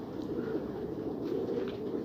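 Pigeons coo softly in a loft, low murmuring calls over a steady dense background rumble, with no voices.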